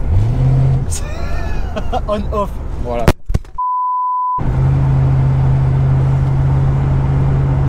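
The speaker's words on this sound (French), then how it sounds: "C'est un ronronnement, c'est vivant comme voiture en fait." A Corvette C3 25th Anniversary engine idles with a low steady hum, cuts out to near silence with a brief tone, then resumes its even drone; a voice speaks briefly in French.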